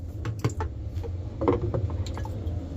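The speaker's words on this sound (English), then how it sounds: "we're just simply putting the water in a bucket and dumping it out" Water scooped from a broken washing machine that will not drain and dumped into a bucket gives soft, close sloshes and drips, irregular splashy bursts over a steady low background hum.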